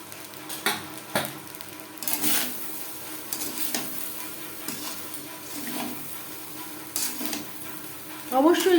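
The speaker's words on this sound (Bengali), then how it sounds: "সবজি ও চিকেনের সাথে ভাত বেশ ভালো করে মিক্সড করে নিয়েছি" Spatula stirring rice with vegetables and chicken in a frying pan over a low gas flame, making chicken fried rice: a steady sizzle with repeated scraping strokes and clinks against the pan, close and fairly loud throughout.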